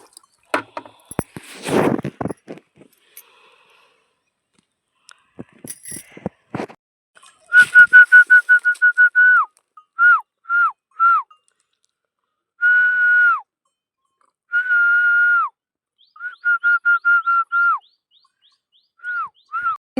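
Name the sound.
person whistling to a cow while it drinks water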